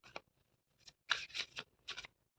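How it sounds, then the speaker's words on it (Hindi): Tarot cards shuffled by hand at close range, giving a few quick, soft riffling bursts separated by short pauses. "let me shuffle it"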